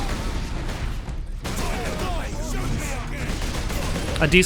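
Dense, continuous gunfire and grenade blasts from the video game Warhammer 40,000: Space Marine, a steady loud barrage with a few sharper bursts near the end and voices mixed in.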